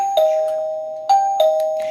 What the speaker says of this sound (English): Here's the chime speaker test.